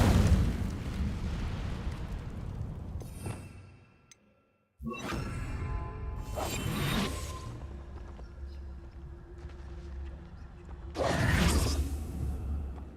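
Fire spell cast in the video game Hogwarts Legacy, with whooshing bursts of flame and rumbling blasts, a brief drop to near silence, then further fiery swells and a loud final burst.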